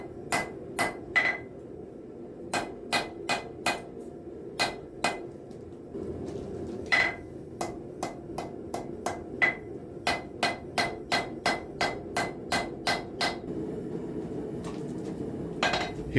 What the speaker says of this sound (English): the metal is actually being compressed between the horn of the anvil and the hammer